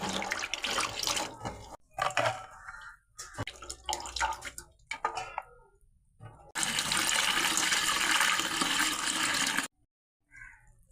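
Water poured over Turkish berries to wash them in a Kerala kitchen: bursts of splashing and running water in stops and starts, then a loud steady pour for about three seconds before it cuts off.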